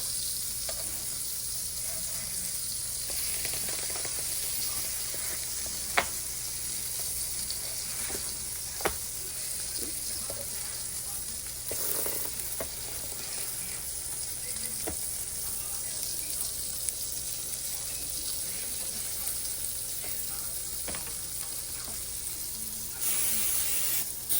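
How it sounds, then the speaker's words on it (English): Strawberry and Oreo pancakes sizzle steadily in a pan, a continuous close frying hiss with a few faint clicks and scrapes scattered through it. "Got strawberry and Oreo pancakes. I'm about to flip them."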